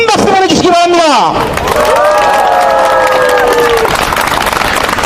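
A crowd at a political rally outside Daehanmun in Seoul breaks into loud applause and cheering, with shouting voices rising and falling over continuous clapping close by.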